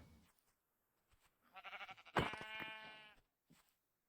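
Sheep bleating in the Minecraft video game, one bleat followed by a longer, clearer wavering bleat, fairly close against a quiet background.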